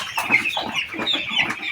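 A close, steady chorus of broiler chickens clucking and chirping continuously, with soft overlapping calls and no single bird standing out.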